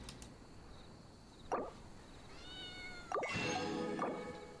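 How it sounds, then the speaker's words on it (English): A cat meows in the Genshin Impact video game, two drawn-out calls at moderate volume over faint background game ambience. "I hear that cat."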